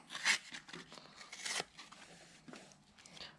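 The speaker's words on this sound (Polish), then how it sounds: "Wsadzimy tu papier ścierny między platynki." Sandpaper rubbed between the ignition contact points of a Motorynka moped gives quiet, short scratchy rasps in an irregular rhythm, heard close up with no talking.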